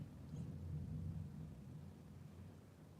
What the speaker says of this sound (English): I don't know if you can hear the thunder. It's very subtle in the background.